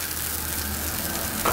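Chicken pieces fry in olive oil in a pan on the stove, giving a steady, close sizzle with a brief stir or clatter near the end.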